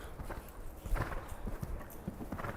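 Horse hooves clip-clopping at a walk during a riding lesson, a quiet, regular rhythm of soft thuds on footing, fairly close and without talk.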